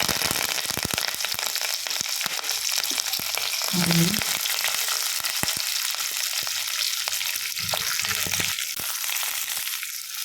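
Mustard seeds, cumin and curry leaves sizzle and crackle steadily in hot oil for a tempering, with a continuous loud frying hiss and scattered sharp pops close up, and no talking.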